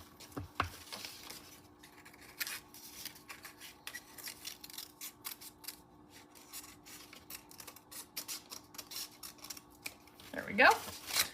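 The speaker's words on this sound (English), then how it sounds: "So a cool cutting trick is to kind of turn the paper instead of turning your scissors completely." Scissors snipping through paper in a series of quick, close cuts with soft rustling between them, a louder burst of crisp cutting near the end, and a voice speaking quietly over parts of it.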